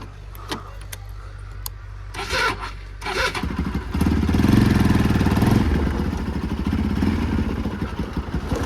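A motorcycle with a faulty start switch runs close by, its engine rumbling low and steady, then swelling louder about midway and holding a rough idle to the end, with a few light clicks and rattles early on.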